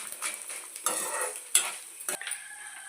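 Urad dal and other lentils fry in hot oil with a soft continuous sizzle, broken by several sharp scrapes and clinks of a spoon stirring against the pan.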